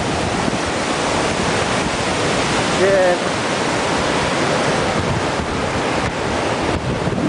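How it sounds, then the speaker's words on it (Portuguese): Roaring rush of a waterfall about 50 metres high, a steady loud broadband wash of falling water heard close by throughout, with brief voice sounds partway through. "aqui tem outra cachoeira. Bela cachoeira, vem lá de cima."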